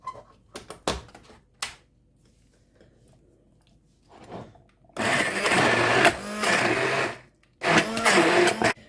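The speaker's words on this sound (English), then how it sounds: "we will go in with the stick blender and see how this sauce comes" A stick blender whirs through a thick homemade milk sauce in bursts, with a few short knocks and clatters before the sustained blending starts and a brief pause midway.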